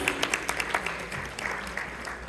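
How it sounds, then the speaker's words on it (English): Applause from guests at a charity fundraising dinner, a soft, somewhat distant spatter of clapping with a few sharper individual claps, fading slightly toward the end. "Everyone give them a round of applause, please."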